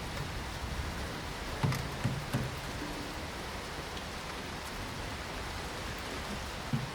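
Steady rain falls continuously, a soft even hiss with scattered drops striking a surface, moderately quiet with no voices.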